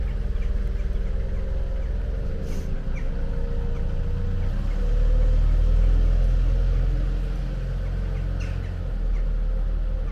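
A lowered, loud car pulls away and drives off down a road, a low steady engine rumble that swells briefly midway, with birds and chickens calling faintly in the background.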